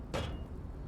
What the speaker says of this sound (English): The knock produces a hollow ring of metal.